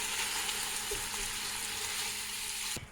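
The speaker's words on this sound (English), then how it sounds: "Hamburger meat is crumbled up and slowly browning." Crumbled hamburger meat browns slowly in a pan for chili over medium heat, giving a soft, even, continuous sizzle up close that cuts off abruptly at the end.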